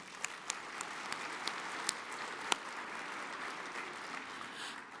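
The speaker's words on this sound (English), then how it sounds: "Give them a warm round of applause." An audience at a railroad industry general session gives warm applause: a steady wash of many hands clapping, with several sharp, distinct claps standing out early on, holding an even level throughout.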